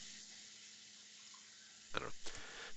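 Water running from a tap, heard as a faint steady hiss picked up over an online player's microphone, with a couple of louder splashy bursts near the end.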